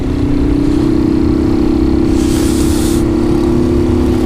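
A 150 motorcycle engine with a strange noise idles close by, a loud, steady drone with a knocking beat and a brief hiss midway.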